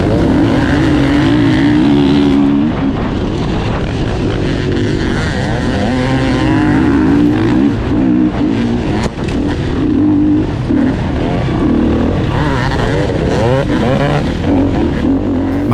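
Off-road motorcycles including a KTM 350 EXC-F starting an Open B class race in an NYOA round, a dense, loud roar of many engines revving together throughout with a voice briefly over it.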